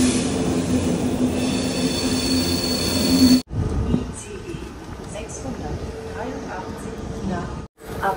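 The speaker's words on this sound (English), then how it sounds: "the train has arrived" Train pulling into a station in Hamburg, with a steady rolling rumble and rising wheel squeal for about three seconds, then a quieter platform with people talking nearby.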